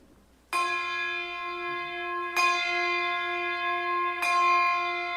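A bell strikes three times at even intervals, each clear metallic toll ringing out and sustaining long with rich overtones, close and fairly loud in otherwise quiet surroundings.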